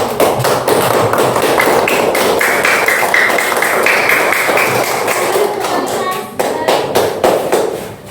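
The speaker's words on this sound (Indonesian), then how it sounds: "Tepuk tangan untuk Pangeran Antasari." Sustained classroom applause for the Pangeran Antasari student group, a dense, steady patter of many hands clapping at close range for about eight seconds, with a brief dip near the end.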